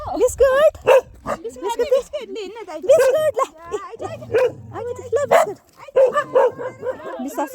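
A dog whimpers, whines and gives short yips and barks while begging for a biscuit, its high cries coming in bursts mixed with people talking nearby.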